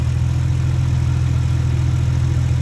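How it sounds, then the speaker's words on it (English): A C2 car with fabs exhaust idles with a loud, steady low rumble, constant and unbroken throughout, close up with no voices. "this car sounds great when you're driving. Has a nice drone, but nothing obnoxious."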